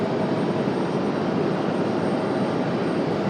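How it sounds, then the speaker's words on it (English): An American Airlines Airbus A319 arriving from Miami at Raleigh-Durham gives off a steady, fairly loud engine rumble and roar, constant and alone without speech. "We've got an American coming in from Miami, American Airlines 2375. This one, an A319."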